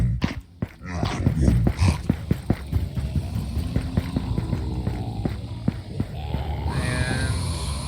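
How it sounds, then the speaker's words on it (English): Zombie sounds in the zombie apocalypse puzzle game Armageddon, built in Unreal Engine 4: low, throbbing, guttural growls that pulse irregularly over a steady droning hum, close and continuous. "And as you guys can hear, there's now zombie sound."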